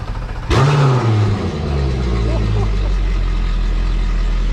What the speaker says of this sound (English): He's gonna film the first ever startup of my first Pro XS V8 4-stroke.